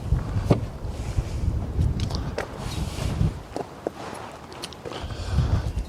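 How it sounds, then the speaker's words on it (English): Steady low rumbling wind buffets the microphone outdoors, with occasional light knocks and clicks over the gusty roar. "it's a little windy out here."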